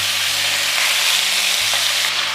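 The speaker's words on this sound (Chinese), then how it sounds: "把五花肉倒进去，给它煎一煎。" Pork belly pieces render their fat over medium heat in a pan, producing a loud, steady, crackling sizzle that runs unbroken throughout, with no voices.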